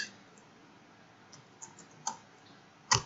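Sparse keystrokes on a computer keyboard while entering labels into an Excel stock-management sheet: a few scattered soft clicks and one sharper tap near the end, quiet, with no talking.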